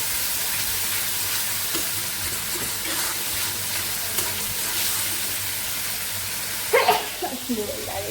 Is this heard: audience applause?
no